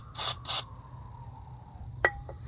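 Two short bursts of aerosol lock lubricant spray hiss close by, followed by a faint metallic click and a brief mechanical rattle.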